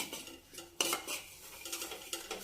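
Gram flour being stirred in a pan off the flame for paneer tikka, with close scraping and clinking of a spoon against the metal, quiet and without talk.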